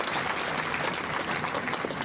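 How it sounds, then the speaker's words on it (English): An audience at a university Independence Day awards ceremony claps continuously for an honoree, a thick, even wash of applause at moderate, somewhat distant level. "Big round of applause for Madam Manisha Mehta for her leadership at IMT Stars"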